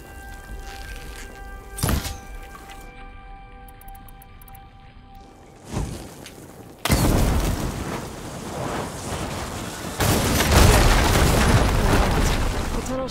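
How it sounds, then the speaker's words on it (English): Blaze barrels in Horizon Forbidden West explode after being struck with fire ammo, giving several heavy booms and thuds spread across the stretch, with loud crackling bursts toward the end over a musical background. "Hitting those blaze barrels with fire ammo should do the trick."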